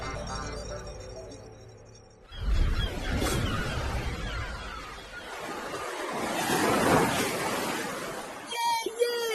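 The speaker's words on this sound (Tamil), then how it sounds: "கடல் அலைகளை பார்க்கும்போது சந்தோஷமா இருக்கு." Cartoon sea waves, a rushing surf wash that swells and recedes in broad surges after a quieter opening, with a voice speaking over it.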